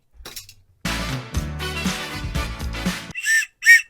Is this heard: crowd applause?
no